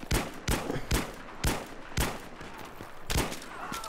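AS-Val suppressed rifle firing in Battlefield 3, a series of sharp, fairly muffled bursts at roughly half-second intervals, each a crisp crack with a short tail, with no talking.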